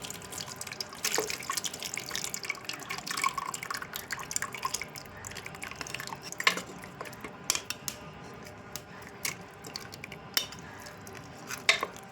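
Water poured into a large pressure cooker holding meat for biryani, heard as a close, irregular trickle and dripping with occasional splashes and a few sharp clinks of metal.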